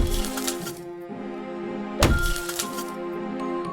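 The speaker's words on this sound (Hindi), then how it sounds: "मैंने पागलों की तरह हथौड़े से दरवाजे की सड़ चुकी लकड़ी पर वार करना शुरू किया।" A hammer strikes the rotten wood of a door, with one sharp, loud crack of breaking timber standing out in the middle against a steady dramatic background.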